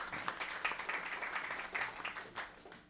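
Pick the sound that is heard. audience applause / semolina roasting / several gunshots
audience applause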